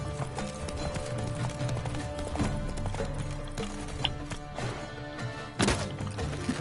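Hooves of the horse Roach in The Witcher 3, a rhythmic clip-clop of steady trotting under game ambience, with a couple of heavier thuds and a brief whinny.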